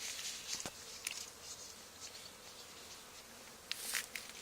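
A honey bee swarm buzzing inside an old barn, a faint continuous droning hum with brief louder passes of individual bees flying near, no voices.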